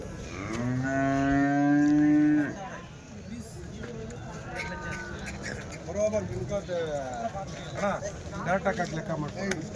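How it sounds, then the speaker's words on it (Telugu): At a Sunday cattle market in Chintamani, a Jersey calf lets out one long, loud moo up close, followed by more lowing and the busy murmur of voices around it. "ఇవన్నీ జెర్సీ దూడలు అండి."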